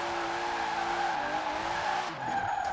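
The Mona Lisa car from Tokyo Drift, with a 500-horsepower RB engine, drifts sideways in Forza Horizon 4. A loud, sustained tire squeal rides over a droning engine tone, then briefly dips and shifts as the slide changes near the end.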